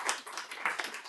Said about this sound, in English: let's get a quick round of applause, please.